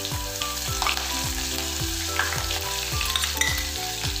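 Finely chopped green chillies frying in hot oil in a kadhai for panchmel dal, a loud, continuous crackling sizzle with a regular pulsing rhythm underneath, close up, no voices.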